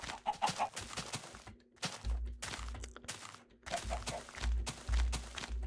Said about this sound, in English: There are a lot of chickens around,